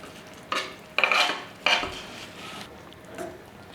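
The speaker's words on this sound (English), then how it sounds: "Finally, add the dill and give it a gentle stir." A spoon scrapes and clinks through prawn curry with dill in a pan, a few gentle stirring strokes close by over a soft background, with no talking.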